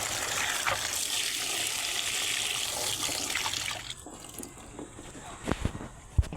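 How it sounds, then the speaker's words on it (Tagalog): Sweet potatoes rinsed in water in a kitchen while breakfast is prepared, a steady running splash that fades after about four seconds, followed by a few sharp knocks and clatters. "So, kukunin ko to dito sa kamote. Hugasan mo muna natin to."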